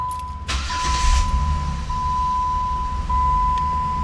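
A 2007 Dodge Nitro's engine cranks briefly and catches, then settles into a steady idle. A dashboard chime rings continuously throughout, close up inside the vehicle.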